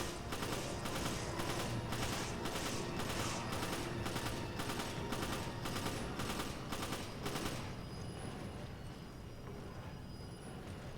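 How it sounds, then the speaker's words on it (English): Sustained automatic gunfire while shooting enemies in Resident Evil 5 on PC, a long rhythmic string of shots for several seconds that then stops, leaving a quieter mechanical hum behind. "So I'm gonna go ahead and just shoot these guys."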